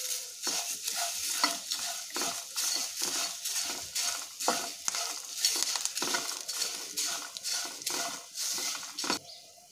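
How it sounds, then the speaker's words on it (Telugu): Sorghum (jowar) flakes being stirred and tossed in a pan for a spicy flattened-grain mixture, with a steady run of dry scraping and rustling strokes in an irregular rhythm, close and moderately loud, with no talking. "జొన్న అటుకులు వేసుకుంటే మిక్స్ చేసుకోవాలి."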